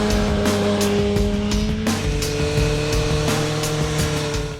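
A 2014 BMW S1000R streetfighter with an over-square inline-four engine runs up close and loud, its tone shifting sharply near the middle as the revs change, with no talking.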